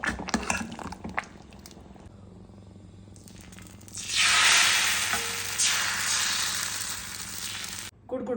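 Onions fry in coconut oil for a thunder mushroom curry, with clicking and scraping at first and then a loud sizzling surge about halfway through that holds until near the end.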